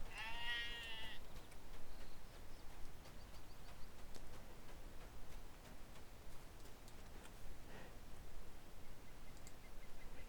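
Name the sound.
sheep bleating in a video game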